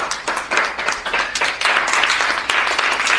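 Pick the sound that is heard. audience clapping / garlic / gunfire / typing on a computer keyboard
audience clapping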